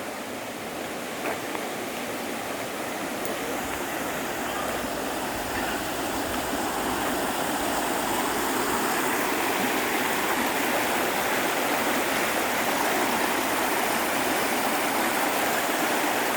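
River water flows steadily on the outskirts of Laguna, a continuous broadband rush that stays loud and even throughout, with no talk over it.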